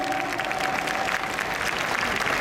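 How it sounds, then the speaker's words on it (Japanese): A festival-stage crowd at Tokyo's Furusato Matsuri claps warmly for Aomori Nebuta performers, a thick, continuous applause that holds steady throughout, with a faint sustained tone running beneath it. "皆様もう一度温かい拍手をお送りください。"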